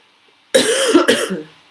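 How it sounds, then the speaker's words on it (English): A single harsh cough, loud and close, breaking into two raspy bursts after a moment of near silence. "Sorry, cough is coming back."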